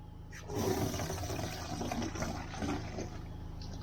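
Soapy water made with Palmolive extra strength is poured over a motorcycle rear tire on an Africa Twin, giving a continuous splashing rush of liquid that holds steady for several seconds.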